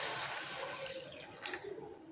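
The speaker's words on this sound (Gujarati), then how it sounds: "હવે આપણે એમાં 1 ગ્લાસ જેટલું પાણી નાખીશું।" About a glass of water is poured into a pan of sautéed spices for Rajwadi dhokli shaak, a short steady gushing splash that settles into a sizzle.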